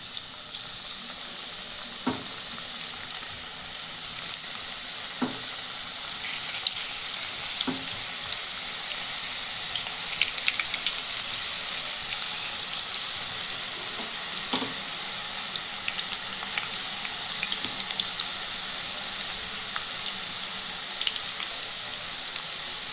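Onion bhaji batter frying in hot oil, a continuous dense crackling sizzle with scattered pops and occasional stirring knocks, steady and close with no voices.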